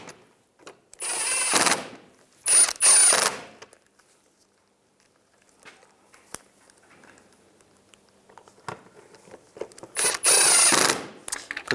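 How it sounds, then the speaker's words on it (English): Short bursts of rapid clicking from a tool driving grille bolts on a 2010-2017 Chevy Equinox, up close, separated by quieter gaps with faint handling knocks and rustles. "Tighten them down."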